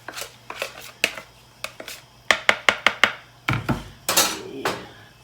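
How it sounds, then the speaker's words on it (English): Cornmeal being stirred into meat mush in a pot, heard as a series of sharp spoon knocks and scrapes against the pot, some single and some in quick clusters, close and fairly loud with quiet gaps between. "Now I'm going to stir in"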